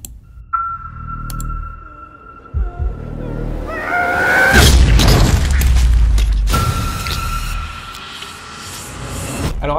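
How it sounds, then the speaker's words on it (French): Cube exploding in a Blender animation: a sonar-like tone and rising whooshes build into a loud, deep boom with crackling debris, then a ringing tone returns as the rumble fades. "je te laisse encore une fois avec la vidéo du cube qui explose"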